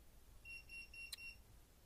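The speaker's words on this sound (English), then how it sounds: "Sorry about that beeping." A faint, high electronic beeping plays in a short series of steady tones with a brief click in the middle, distant against a quiet background hum.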